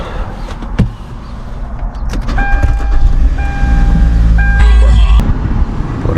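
A Kia Optima cranks and its engine starts after a fuel pump replacement: a mechanical whir with tonal chimes, then a rising loud idle rumble close by, with a sharp click or two.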